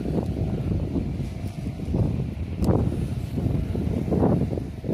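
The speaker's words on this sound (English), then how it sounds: "It's a bit windy, guys." Steady low rumble of wind buffeting the microphone outdoors, with gusts swelling and fading throughout, no voices.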